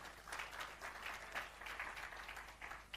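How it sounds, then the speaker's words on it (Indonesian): A church congregation claps in an even burst of applause, heard fairly faint and distant, the clapping continuing without a break for a few seconds. "Tepuk tangan lebih keras lagi."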